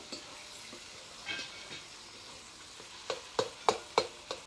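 Tomatoes are sautéed with brinjal and dry prawns in a pan: a quiet background frying hiss, then a quick series of sharp spatula scrapes and taps near the end.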